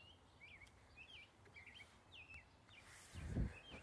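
Evening birdsong outdoors: several faint, high chirping phrases repeat over a quiet background, followed by a brief low rumble near the end.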